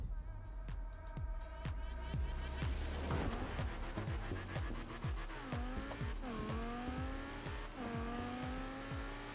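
BMW M6 Coupe racing in Forza Horizon 4, its engine revving loud and close through repeated rapid gear changes, with rising and falling pitch and tire squeal through the turns, no talk over it.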